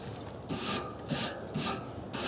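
A wire brush is scraped across hot barbecue grill grates in four rhythmic back-and-forth strokes, each a close, harsh rasping swish separated by short pauses.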